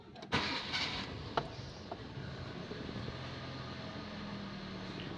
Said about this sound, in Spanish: Y para realizar las pruebas en vivo necesitamos encender el vehículo.